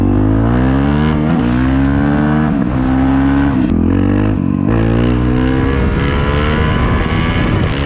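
A stock Honda CRF450L motorcycle engine roars loud and close, its pitch rising and falling through repeated revs and gear pulls, with no voices.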